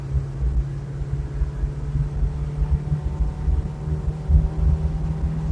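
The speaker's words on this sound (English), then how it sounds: "Listen to that four-banger rev." A four-cylinder Chevrolet Chevette engine revs up during a ride, heard from inside the car as a steady low drone and rumble with a sustained hum that swells slightly toward the end.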